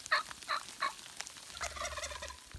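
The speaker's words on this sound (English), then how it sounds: "We hear the turkeys coming up the hill." Wild turkeys gobble on a hillside during a spring hunt, several loud rattling gobbles in quick succession, then a softer overlapping chorus of birds at moderate distance.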